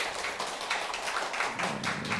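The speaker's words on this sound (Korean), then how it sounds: "박수로 맞아주시기 바랍니다" An audience claps to welcome actor Park Hyung-jun at a Yun Dong-ju poetry event, a steady bed of dense close applause throughout with no voices over it.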